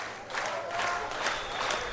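Stadium crowd applauding at a football match involving Sūduva, a steady wash of clapping and crowd noise rising slightly after the opening moment and holding throughout.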